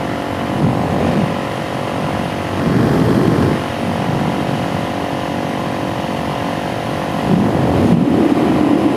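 A Suzuki DRZ motorcycle engine drones loudly and continuously during a cold-weather ride, its pitch rising and falling gently with throttle, with wind rushing over the microphone.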